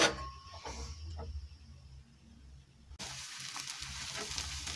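Eggs sizzling in a pan, a quiet crackle with a few small knocks at first, then a brighter, fuller hiss that holds steady to the end.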